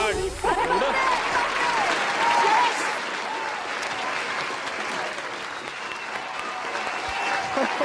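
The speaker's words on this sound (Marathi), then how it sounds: "जोरदार टाळ्या समीर चौगुले यांच्यासाठी" Loud, sustained applause fills an award show hall, a dense crowd clapping steadily for the whole stretch without letting up.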